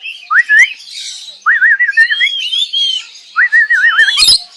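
Shrill, warbling calls of rainbow lorikeets in short bursts, loud and close, with a sharp squawk near the end, in a large aviary.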